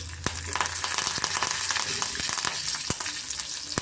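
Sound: cumin and mustard seeds sizzling in hot oil

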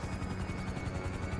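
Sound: helicopter in the video game GTA 5

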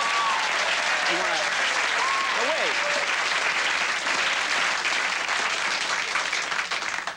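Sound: studio audience applauding at late-night show

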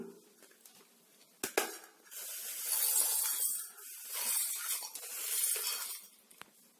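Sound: mixer grinder grinding roasted garam masala spices

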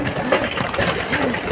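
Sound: racing pigeons

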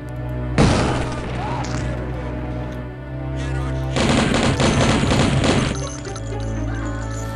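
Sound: napalm cannon shots in video game Blood

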